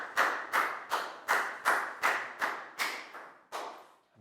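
A Year 4 classroom claps together in a steady unison rhythm, about nine sharp, evenly spaced claps at a moderate distance, with no talking over them.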